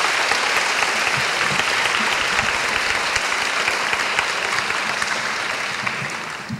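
Audience at a conservation and exploration lecture forum applauds, a dense, loud, steady wash of clapping that holds for several seconds and tapers slightly at the end, no voices.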